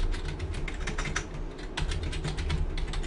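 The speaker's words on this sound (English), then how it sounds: "Sorry for the very loud typing." Loud, fast typing on a computer keyboard, a dense rapid clatter of keystrokes heard close up with a brief slowdown midway before the typing picks up again, with a low background hum throughout.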